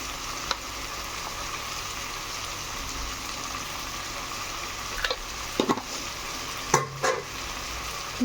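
A spoon stirs paneer biryani masala in a frying pan over soft sizzling, with a few scraping knocks near the end against a steady low frying hiss.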